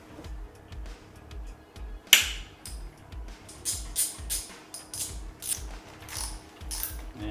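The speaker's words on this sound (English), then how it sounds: "Now we need to undo the 2 bolts that are securing the Speedo itself to the" Ratchet clicking rapidly and steadily while undoing the bolts that secure the speedometer to the frame of a Suzuki Intruder VS1400 motorcycle, close up, with a few sharper metallic clicks.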